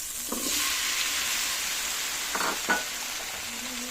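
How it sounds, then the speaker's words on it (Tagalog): Sautéed chayote and taro (gabi) sizzling in a pan, a continuous hiss of frying with a few scraping knocks of a spoon stirring through it, close and fairly quiet, no talking. "Mix natin guys yung gabi"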